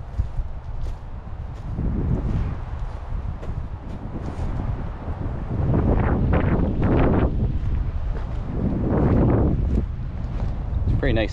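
Wind gusting across a lakeside campsite in Algonquin Park, a steady low rumble of microphone buffeting that swells in stronger gusts, with a few faint sounds of movement and a voice briefly.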